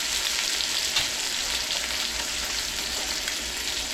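Bison meat sizzles steadily in a hot pan, a close, even crackle of frying fat with faint pops, no voices over it.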